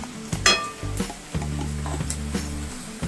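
Onion fries in a pan with ginger, garlic and tomato purée for Maharashtrian-style chole, soft sizzling under repeated clinks and scrapes of stirring.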